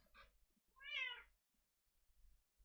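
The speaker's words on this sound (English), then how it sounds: "my mass cat, Lady Catherine, who was meowing" A house cat gives two meows close by, a short one first and then a longer, louder drawn-out call, with quiet low rumble between them.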